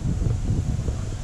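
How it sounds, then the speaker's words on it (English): Wind blows outdoors on a sightseeing walk near an old replica windmill: a low, steady rumble of gusts buffets the microphone for about a second, with no other sounds standing out. "it's getting a little windy today"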